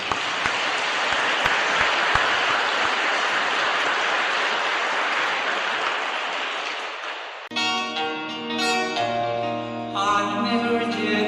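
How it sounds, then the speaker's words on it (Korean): An audience at a Korean Catholic gathering claps in steady, sustained applause for about seven seconds, then it stops abruptly and music begins. "박수 한번 해주십시오"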